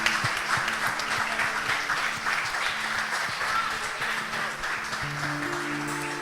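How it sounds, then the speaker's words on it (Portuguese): Church congregation applauding during worship, steady sustained clapping with background voices and some tonal music underneath. "Aplauda o Senhor."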